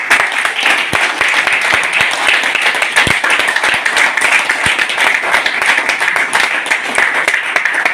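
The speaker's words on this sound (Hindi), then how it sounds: "इन सब लीडरों के लिए आप जोरदार तालियां बजाएं।" An audience at a celebration gives strong, steady applause for a group of leaders. Many hands clap continuously for the full stretch, with a few sharper individual claps standing out.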